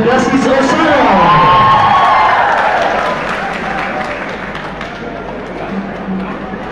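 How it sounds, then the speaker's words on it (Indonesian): An audience at a church choir festival gives loud applause and cheering for a choir group, swelling early, then tapering off, with shouts and voices mixed in. "sekali lagi kita berikan aplaus yang meriah untuk Klasis Osano"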